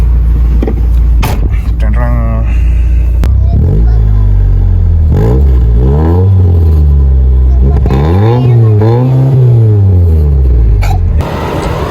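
A 1990 Nissan Sunny classic car engine driving, loud and close, with the engine pitch rising and falling through repeated revs and gear changes, and a voice talking over it.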